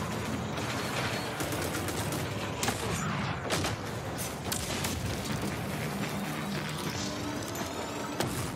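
Weapons fire in a fast, first-person demon-shooting game, with dense bursts and sharp shots layered over a loud, busy mix of mechanical clatter and explosions for the whole stretch.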